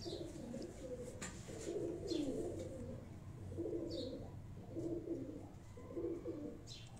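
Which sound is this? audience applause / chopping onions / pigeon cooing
pigeon cooing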